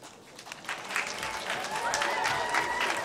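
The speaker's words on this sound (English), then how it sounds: "Keep those hands clapping out there for the candle number three" Guests at a bat mitzvah candle-lighting ceremony at Michaels On East in Sarasota, Florida applaud steadily, the clapping building and holding with some crowd voices mixed in.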